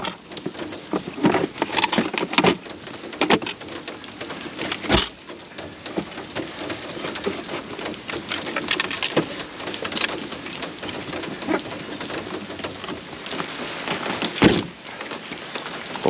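Rain falls during a California storm in a flood warning zone, a dense, continuous patter and splash with scattered sharp knocks and drops throughout; no speech.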